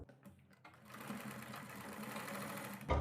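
A sewing machine runs steadily, stitching buckram onto the boat neck of a kurti. It starts after a brief pause and hums at an even, close rhythm for most of the clip, then ends with a louder thump.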